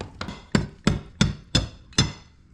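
A chisel is hammered into a wall during demolition, six sharp metallic strikes landing at a steady rhythm, each close and loud with a quick ringing decay.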